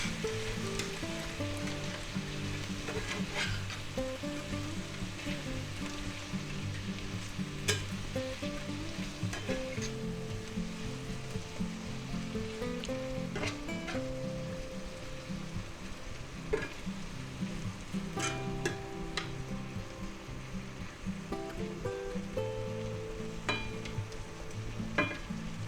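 Mushrooms sautéing in garlic butter in a pan, crackling with a steady, continuous sizzle while a utensil stirs and scrapes now and then, close and moderately quiet, no voices.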